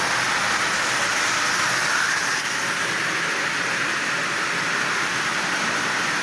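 Marx 490 toy train engine with a micro motor and vinyl tape traction tires, running fast around the track at about 50% power, giving a steady, dense whir and rolling rattle that holds constant throughout.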